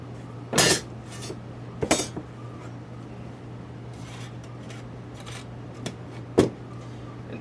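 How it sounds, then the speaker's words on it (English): Metal panels of an Emberlite cook stove are fitted together by their notches, giving a few sharp, close metallic clinks and taps separated by quiet pauses, with soft handling rustle between them. "So you just put the stove together with these notches."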